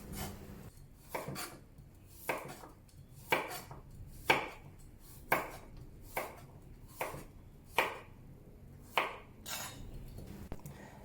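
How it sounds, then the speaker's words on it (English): A knife cuts peeled carrots into wedges on a cutting board for Chinese ABC soup, giving about ten distinct, crisp chops spaced roughly a second apart, each followed by a short scrape, close and fairly quiet. "Peel the carrots and then cut into wedges."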